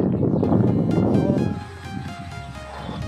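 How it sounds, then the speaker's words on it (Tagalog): Loud, steady wind roar buffeting the microphone at an outdoor complex in Laguna, heavy for the first half and then easing into a lighter, continuous rush. "Lakas ang hangin dito sa complex."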